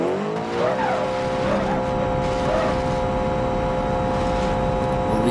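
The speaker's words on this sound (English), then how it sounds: "We'll do a run without nitrous, and then we'll do a run with nitrous." Drag car in BeamNG Drive launching and accelerating hard without nitrous, a loud continuous engine roar that rises in pitch through several quick gear shifts.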